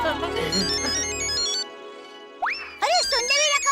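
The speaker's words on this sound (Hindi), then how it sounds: "अरे फोन आया।" A phone ringtone plays a short electronic melody, with musical tones and sliding notes, fairly close and clear.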